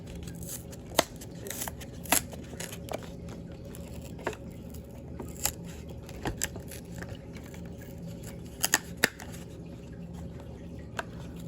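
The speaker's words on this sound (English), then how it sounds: "I'm gonna open it up. Try to save the packaging, I guess." Plastic and cardboard packaging of a 2006 Hot Wheels toy car is handled and opened, producing scattered crinkles, snips and sharp clicks at irregular intervals, close and fairly quiet, with no talking.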